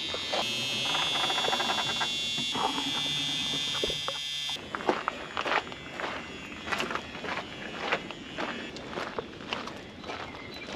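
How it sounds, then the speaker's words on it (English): Car door warning buzzer on a barn-find Dodge Monaco parked for 34 years, a steady high-pitched electric tone sounding for about four seconds, then cutting out, followed by footsteps and shuffling handling noises. "Door buzzer still works."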